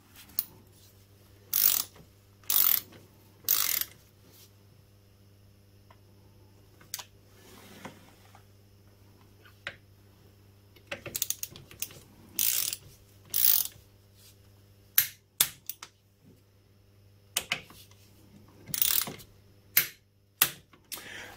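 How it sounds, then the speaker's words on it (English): Brake caliper mounting bolts on a Suzuki KingQuad ATV get tightened with a ratchet or torque wrench, giving short, close bursts of clicking separated by quiet gaps, with no talking. "Tighten the brake caliper mounting bolts one to the specified torque."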